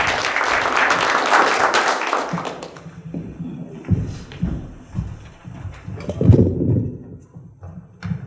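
An audience at a Korean education office's vision ceremony in Asan claps to welcome a speaker, a dense burst of applause at first that thins into scattered, fading claps.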